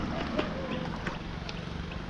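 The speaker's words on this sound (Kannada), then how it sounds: "ತುಲೆ ಬೋಟ್ ತುಲೆ ಇಂಚ ಪೋಂದುಂಡಂತ" A boat travels across open water near an island delta, with steady low rumble, wind buffeting and faint splashing throughout, continuous and moderately loud with no distinct talk.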